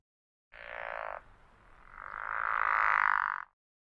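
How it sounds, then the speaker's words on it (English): A pickerel frog croaks in two rasping, snoring calls: a short one lasting under a second, then a brief pause and a longer, louder one of about a second and a half, heard alone and close. "here is the sound that the pickerel frog makes"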